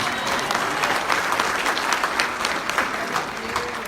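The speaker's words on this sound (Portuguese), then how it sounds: "Aplauda ao Senhor Jesus" A church congregation applauds Jesus during a sermon, loud continuous clapping from many hands that holds steady throughout, with no speech on top.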